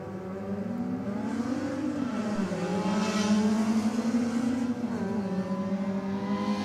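Turbocharged race car accelerating hard down a drag strip, engine note climbing steadily through gears with rising pitch, heard from a distance and fairly loud throughout.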